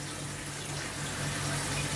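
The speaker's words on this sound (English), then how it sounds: "And I can hear more water filling." Water flows into a Fluval FX2 external aquarium filter after its outlet valve is opened, a steady close rushing and gurgling fill that holds level and swells slightly toward the end.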